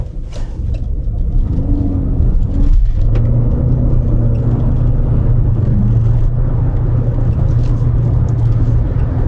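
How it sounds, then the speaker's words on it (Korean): KGM Torres hybrid SUV accelerating hard to 100 km/h, a steady low engine and road rumble with a rising drone heard from inside the cabin. "여기서 시속 100km까지 가속을 간단하게 한번 해볼게요"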